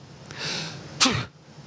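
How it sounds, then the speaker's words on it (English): An astronaut's single sneeze aboard a spacecraft in orbit: a short breathy intake followed by a loud, sharp burst up close, over a constant hum of cabin machinery. "I'm going to sneeze."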